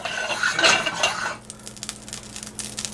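Metal utensil clinks and scrapes against a pan while melting butter or Smart Balance is swirled and stirred for a mushroom omelette, busy and close in the first half, then settling into quieter, sparse clinks.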